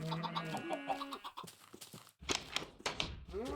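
Minecraft chickens make short clucks and squawks over tonal game music, followed by a quiet gap and a cluster of sharp clicks and thunks near the end. No one talks.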